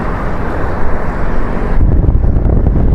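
Loud wind buffets the microphone in a steady low rumble at the Dragon Bridge over the river in Da Nang, with passing road traffic blended into the roar.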